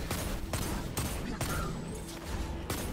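Rapid gunfire from the video game Destiny 2 takes down a sniper, with repeated sharp shots in quick bursts over a dense, noisy game soundscape.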